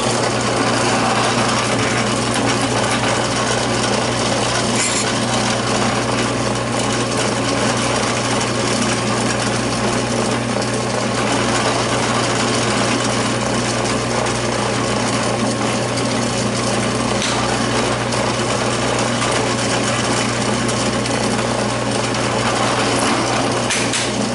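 A power drill with a 1/4 inch Forstner bit bores a flat-bottomed hole from the finish side of a knife handle, giving a loud, steady whirring grind that runs unbroken throughout with no voices.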